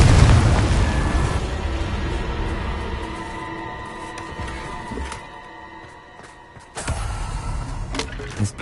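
A Confringo fire spell explodes in the Hogwarts Legacy video game, a loud booming blast that opens the clip and rumbles into a long fading decay, with a second smaller impact near the end.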